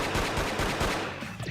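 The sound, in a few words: gunshot in the video game Persona 4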